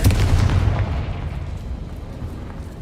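Confringo blasting spell going off in a wizarding video game, a loud booming explosion up front that rolls off into a rumbling decay, alone with no talk.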